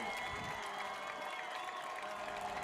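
Crowd of Raiders fans cheering and applauding at a high school football game late in the fourth quarter, a steady dense roar with scattered shouts, held at an even loudness throughout.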